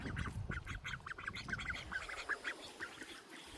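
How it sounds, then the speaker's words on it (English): Ducks quack in a busy, chattering run by the water at a fishing harbour in Burin, Newfoundland, with rapid repeated calls at moderate distance over soft outdoor noise, fading toward the end. "Beautiful little ducks."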